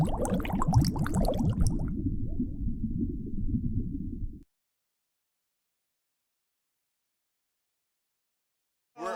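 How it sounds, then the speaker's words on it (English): A bong bubbles continuously and loudly for about four seconds as water gurgles through it during a hit, then cuts to silence before a brief burst of sound at the end. "That sound effect is actually me hitting the bong."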